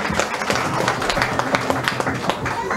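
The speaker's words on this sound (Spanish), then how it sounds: "démonos fuertes aplausos a cada uno de nosotros en señal de bienvenida." Dense, steady applause from a crowd at a house inauguration in Aldea Setivá, Sipacapa, many hands clapping at once in a continuous patter that fills the space.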